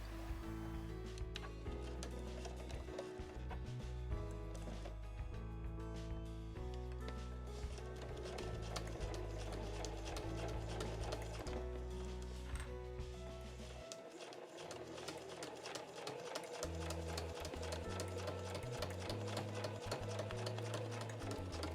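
A home sewing machine stitches the bottom of a tote bag made of heavy No. 8 Marimekko canvas, its rapid mechanical needle chatter running continuously with a brief pause midway, over soft background music.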